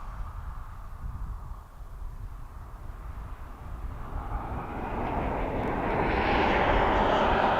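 A Ryanair airliner approaching East Midlands Airport sends a broad jet roar that starts distant and swells steadily louder through the second half, with no talk.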